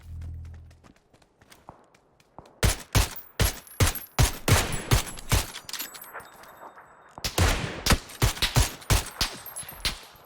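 Rapid bursts of gunfire from the video game PUBG, loud repeated shots in quick clusters with brief pauses, fired close by after a quiet opening with faint footsteps.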